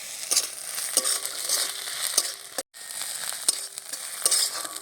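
Chopped onion and ground ginger-garlic paste fry in spices, a bright, close crackling sizzle broken by scraping stirs, with one brief silent gap.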